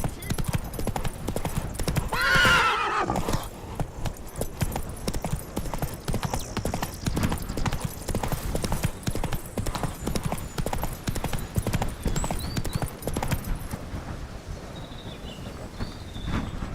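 Hooves of the horse Roach clip-clop at a steady, rapid gallop in the Witcher 3 Blood and Wine game, with a loud whinny early on and faint insect and bird ambience underneath.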